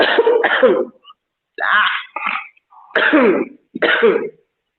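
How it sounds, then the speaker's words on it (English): A woman coughs and clears her throat in several harsh bursts, close up, with short silent gaps between them. "I know some people heard me coughing"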